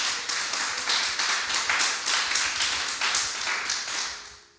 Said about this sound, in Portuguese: Vamos aplaudir pela presença dele em nome de Jesus.